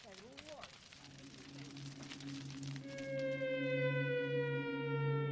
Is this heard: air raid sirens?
yes